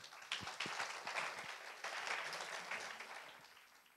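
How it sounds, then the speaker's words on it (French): An audience at a French conference on digital and travel technology applauds a panel discussion, with continuous clapping from many hands, moderately distant and steady across the whole stretch. "On peut les applaudir."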